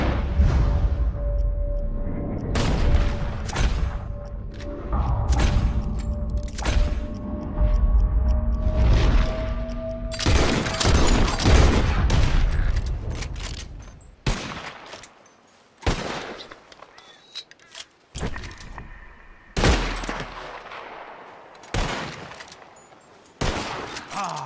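Rapid gunfire from several players shooting at birds in Red Dead Redemption 2, with bursts of shots coming close together and then thinning into separate loud cracks, over game ambience and some background voices.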